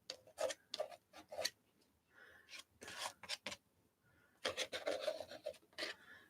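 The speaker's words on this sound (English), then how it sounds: "Let's just scrape it." Scraping strokes of a tool dragging paint across a card postcard in black, white and grey with red, a series of short dry rasping passes in bursts with brief pauses, close and fairly quiet.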